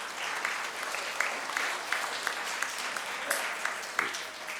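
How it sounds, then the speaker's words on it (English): A crowd at an Islamic center gathering applauds steadily for several seconds, a dense wash of clapping with a few sharper individual claps standing out. "A round of applause for her,"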